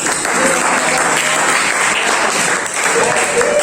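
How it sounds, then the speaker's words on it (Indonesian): Applause from an audience in a class presentation on inheritance of traits: dense, loud and steady clapping from many hands that fills the whole stretch without pause. "Oke, kita berikan aplaus."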